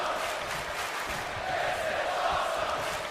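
A wrestling crowd in the WWE 2K22 video game chants steadily through a Kurt Angle vs Kenny Omega ladder match, a dense, continuous wall of voices with a rhythmic pulse and no single speaker standing out.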